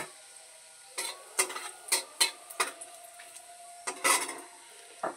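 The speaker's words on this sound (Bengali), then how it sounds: "তেলের মধ্যে একটু সর্ষে ফোড়ন দিয়ে দেবো, একটা লঙ্কা দিয়ে দেব" Mustard seeds and a chilli dropped into a little hot oil in a kadai for tomato chutney, giving a string of sharp crackles and metallic clinks in separate close bursts over a quiet hiss.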